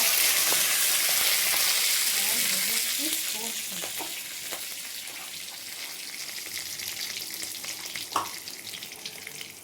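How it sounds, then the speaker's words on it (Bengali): Cumin seeds, curry leaves and green chillies sizzle loudly in hot oil as a tempering for a vegetarian doi paneer curry, a steady bright crackle that eases slightly after a few seconds, with occasional stirring. "দিয়ে দিলাম একটু জিরের ফোড়ন, দিয়ে দিলাম কারি পাতা, কাঁচা লঙ্কা"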